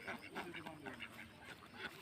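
A flock of about twelve hundred egg-laying ducks on a farm quacking in a rapid, overlapping chatter, faint and continuous.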